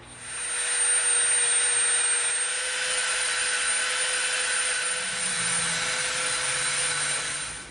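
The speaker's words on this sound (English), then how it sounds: "we're going to get our Dremel back out, and we are going to Dremel to this line" A Dremel rotary tool bevels the edge of EVA foam, a loud, steady high-pitched whine of the spinning bit grinding continuously for several seconds, close by, with a slight dip midway and no talking.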